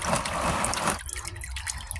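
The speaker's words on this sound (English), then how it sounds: "It's going to start dripping out." Engine oil from a Chevrolet Tahoe's loosened drain plug pours and spatters into a catch pan, a heavy steady liquid rush that abruptly thins to lighter dripping and trickling.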